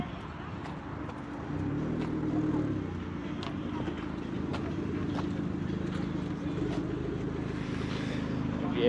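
A modified XR drives slowly into a Cars & Coffee meet, its engine a low steady rumble that swells after the first second and holds. Distant crowd chatter and talk run underneath.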